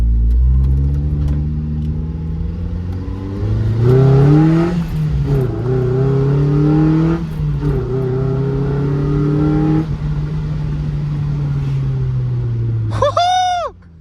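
A 2000 Mazda Miata NB with a newly replaced clutch driving from inside the cabin, its engine revving up and dropping through gear shifts, with a loud steady drone and a brief squeal near the end.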